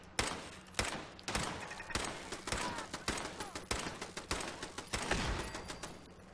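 Rapid gunfire in Fallout 4, a close, dense run of repeated shots crackling steadily for several seconds with sharp individual reports.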